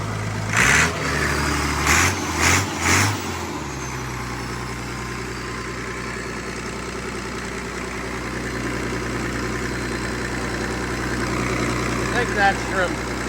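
An Allis Chalmers 200 tractor engine, being restored, idles with a steady low rumble and a few deeper throttle bumps near the start, while a person talks briefly.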